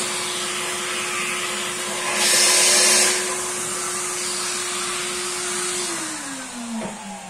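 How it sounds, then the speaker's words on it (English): Vacuum cleaner running steadily while a hole for a door hinge is drilled, a loud continuous whooshing hum with a brief louder surge midway and a dropping pitch as it winds down near the end. "Now take a vacuum."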